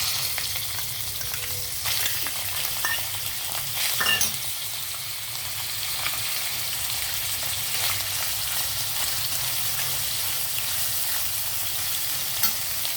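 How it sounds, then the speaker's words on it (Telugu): Chicken pieces frying in hot oil in a pan for chicken macaroni, a steady dense sizzle that holds close and loud throughout, with a few brief clatters and no voices. "ఇది ఆయిల్ హీట్ అయిన తర్వాత మనం చికెన్ వేద్దాం"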